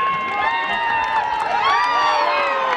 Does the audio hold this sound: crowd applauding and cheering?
yes